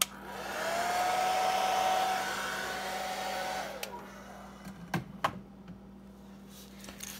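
A hair dryer blows steadily to dry paint on a 6.5 deep diver fishing lure, then cuts off, leaving a few close clicks and knocks of handling.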